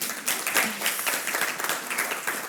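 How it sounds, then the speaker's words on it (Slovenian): Brief applause from a conference audience, a close, uneven patter of clapping hands lasting a couple of seconds at moderate volume. "Pa tudi za vas je tale aplavz seveda"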